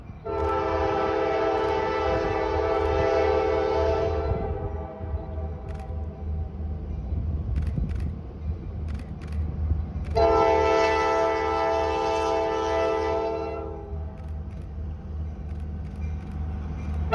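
A freight train rolls past a crossing, sounding two long blasts on its horn over the continuous low rumble of the wheels and cars, loud and close.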